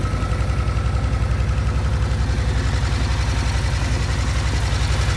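A 2008 Suzuki Boulevard C90 1500 touring motorcycle engine idling, a loud, steady low-pitched rhythmic thumping pulse that stays even throughout, close by with no talk.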